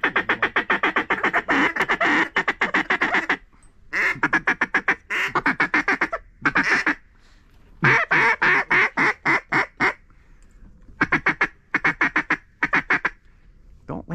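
Ducks quacking in rapid bursts of repeated calls during a hunt on a pond, loud and close, with short pauses between volleys and a faint voice in the background.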